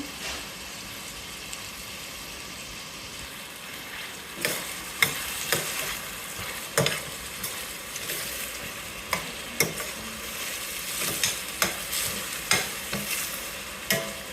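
Onions and curry leaves fry in a pan with a steady background sizzle, punctuated by regular scraping and clacking strokes of a spatula stirring them, growing more frequent toward the end.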